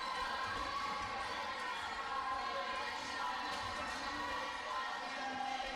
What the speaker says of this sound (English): the crowd is pretty much into it now